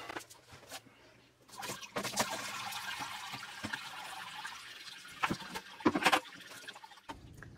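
Homemade blackberry wine must draining, a soft wet trickling and patter with scattered drips and splashes, close by and fairly quiet, with brief movement noises and a short voice sound.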